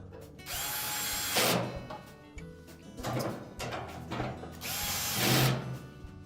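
A power drill whirs in short, loud bursts while driving a screw into the drum support of a Whirlpool dryer during a rear drum roller shaft repair, with pauses and clicks between the runs.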